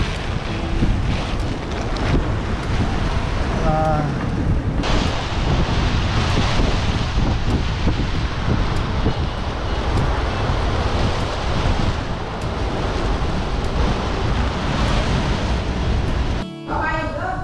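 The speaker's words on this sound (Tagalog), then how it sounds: "Lakas ng hangin." Strong wind buffets the microphone constantly over rolling sea and surf while fishing, a loud, steady roar with no pauses.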